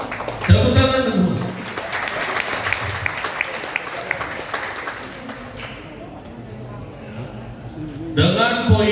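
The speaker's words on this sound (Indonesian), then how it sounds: "Tepuk tangan dulu." Applause from a church congregation at a vocal group competition results announcement, a broad wash of clapping across the clip with voices talking over it at the start and end.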